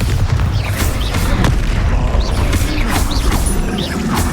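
The Bombarda spell in Hogwarts Legacy goes off in combat: a loud, dense rumbling blast with crackling debris and mechanical rattling, steady and close for the whole stretch.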